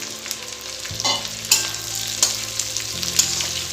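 Chopped onion, garlic and chilli sizzle steadily in a hot pan, with a few sharp scrapes and clinks of a spatula stirring them, close and clear with no talking.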